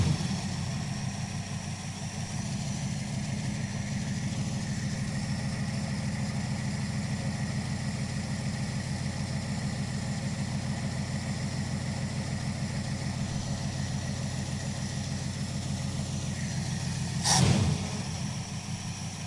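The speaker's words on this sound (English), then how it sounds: "Get it to idle, hold on." A Dodge Charger crew cab engine idles steadily and fairly loud, a continuous low rumble throughout, with a brief sharp knock or clatter near the end and no voices.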